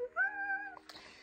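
Newly adopted kitten gives a single clear, close, high meow of just over half a second, followed by soft rustling.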